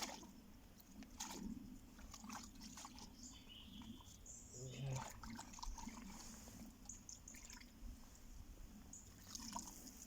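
Water trickles and splashes faintly over tree roots as excess compost is rinsed off outdoors, with birds chirping in the background.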